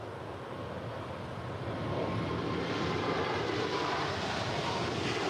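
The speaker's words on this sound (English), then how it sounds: "heavy Boeing 747 is now departing" A heavy Boeing 747 jet departing at LAX, its broad engine roar swelling after about two seconds into a steady, distant rumble, with no voices.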